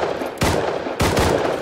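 Two sharp gunshot bursts in the video game Rust, each a loud crack followed by a brief rapid echo, separated by a short pause.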